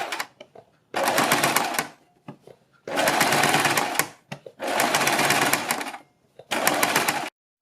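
A sewing machine runs stitches along the edge of a garment's neckline in four steady bursts of rapid, close, even clatter, with short quiet pauses between runs.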